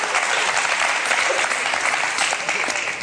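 A studio audience on a Tunisian TV show applauds for a singer, a steady dense wash of clapping that holds at an even loudness throughout, close and full.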